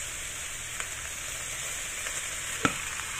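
Soy sauce sizzling in a hot pan for chicken adobo with mushrooms, a steady quiet hiss of frying with a few soft clicks and one sharp tap of a utensil near the end.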